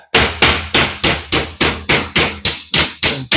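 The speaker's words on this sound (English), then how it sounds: "I probably could hammer it now." Sheet metal on a 1941 Ford truck struck with a hammer, eleven loud evenly spaced ringing blows in quick succession, close and alone.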